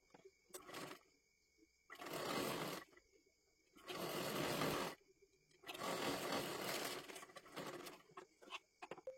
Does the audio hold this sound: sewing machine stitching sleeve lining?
yes